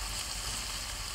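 Spice paste with bay leaf frying in oil for prawns, a brief, even sizzling hiss with faint stirring underneath.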